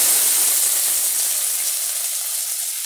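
Potatoes go into hot oil already holding bay leaf and whole cumin, giving a loud, close, steady sizzling hiss that fades only slightly over the few seconds.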